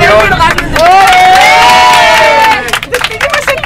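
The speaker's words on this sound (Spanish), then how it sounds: "Una ovación." An audience at a stage show in Mérida bursts into a loud ovation, with high whoops and cheering over clapping that swells and then thins into scattered applause.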